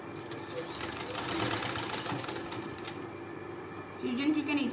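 Sewing machine running steadily while stitching lace onto the front of a kurti, a low continuous machine hum with slight rises and falls, fairly quiet throughout.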